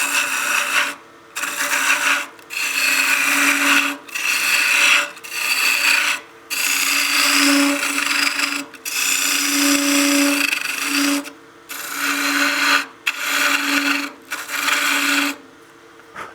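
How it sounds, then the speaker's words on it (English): A spindle roughing gouge cuts wood on a lathe, and the rasping cutting noise comes in repeated bursts of one to two seconds separated by brief pauses, loud and close, over a steady motor hum. "use the spindle roughing gouge to get rid of the bulk of the material"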